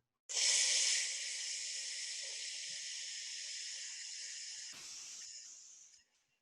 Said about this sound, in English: So eyes closed, breathing in through the teeth or the tongue.